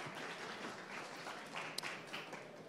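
Faint applause from an audience welcoming a presenter at a startup pitch marathon, a soft, distant patter of clapping with no talk over it.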